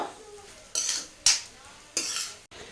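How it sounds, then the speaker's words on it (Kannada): Drumstick leaves and green gram frying in oil are stirred in a pan, with a few separate bursts of loud, close sizzling scrapes and a clink of the utensil between them. "ಒಳ್ಳೆ ಮಿಕ್ಸ್ ಮಾಡೋಣ ಎರಡೂ ಮಿಕ್ಸ್ ಆಗಲಿ ಒಂದು ಐದು ನಿಮಿಷ ಚೆನ್ನಾಗಿ ಎಣ್ಣೆಲಿ ಫ್ರೈ ಆಗಲಿ"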